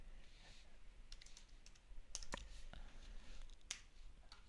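Quiet keystrokes on a computer keyboard as a manufacturer's name is typed, a few soft scattered clicks close by over faint room hiss.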